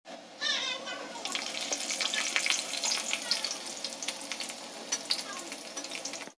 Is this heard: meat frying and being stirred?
yes